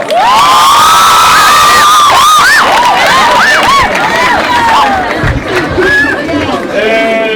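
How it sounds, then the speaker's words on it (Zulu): A secondary school crowd at a drugs awareness event erupts in loud, close cheering, with high-pitched whoops and shouting from children rising and falling over a dense roar of voices throughout. "Shaya izandla."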